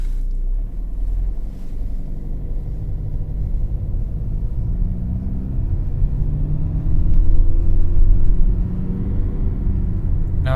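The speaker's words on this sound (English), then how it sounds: "I'm starting the car now" Engine of a 2020 Kia Sportage with engine issues runs with a steady low rumble. Its pitch climbs gradually as it revs, and no one speaks.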